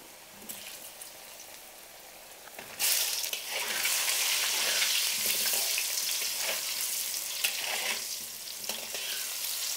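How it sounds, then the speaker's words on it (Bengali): Pre-cut potatoes fry in hot oil seasoned with salt and turmeric in a wok. A quieter stretch gives way to a loud, close, continuous sizzle that stays strong throughout. "এখানে আমি আগে থেকে কেটে রাখা আলুগুলো আগে থেকে ভেজে নেব।"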